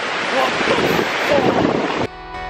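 Strong storm wind on Åland roars and buffets the microphone in a loud, continuous rush, then abruptly drops to a quieter, thinner background near the end.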